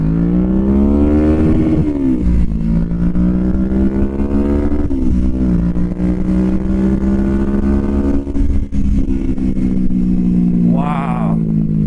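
A Kawasaki Vulcan S 650 cruiser motorcycle accelerates hard through several gears, its engine note climbing loudly and dropping at each shift, heard close and continuous.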